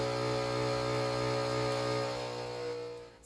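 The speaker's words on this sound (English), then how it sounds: "So once your vacuum sealer is done, this is what you end up with." Vacuum sealer drawing air from a bag holding four ears of corn, a steady close motor hum with strong tonal whine that holds for a few seconds, then eases off at the end.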